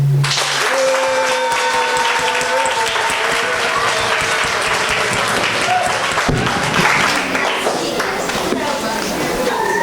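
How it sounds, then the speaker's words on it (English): Sustained applause from a seminar audience at a mental health event fills the whole stretch, dense and steady at close range, with faint voices mixed in. "Another round of applause."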